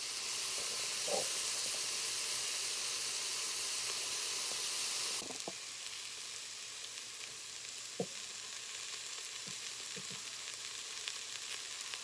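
Rice and cooked mushrooms sizzle and fry in an Instant Pot for a vegan mushroom and spinach risotto, a steady loud hiss that drops in level partway through, with a few small clinks and stirring knocks.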